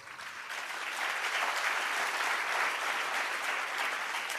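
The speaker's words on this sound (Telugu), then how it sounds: "చప్పట్లతో స్పందించారు" A congregation applauding during a sermon, dense clapping that swells within the first second and holds steady and fairly loud, with no speech over it.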